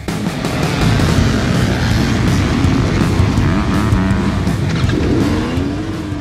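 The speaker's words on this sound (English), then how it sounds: "KTM fired up quick on the dead start, as it always does, and I got a pretty good launch toward the first turn." A 2018 KTM 250XC-W two-stroke dirt bike fires up at a dead-engine race start for a harescramble, revving loud and close in a steady, continuous roar throughout.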